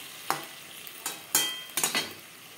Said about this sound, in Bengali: ফুলকপির সাথে আলু বেশ ভালো করে মিক্সড করে দেবো।